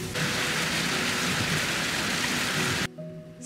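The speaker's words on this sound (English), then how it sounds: "the clagged out weather and the torrential rain" Torrential winter rain on the Isle of Skye, heard from a Land Rover, a dense, loud, steady hiss that cuts off abruptly near the end to a quieter interior hum.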